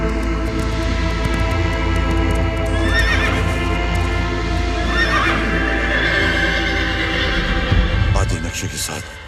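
A horse neighs twice in a dramatic Hindi film scene, with long quavering whinnies rising over a dense, loud bed of hooves and background score.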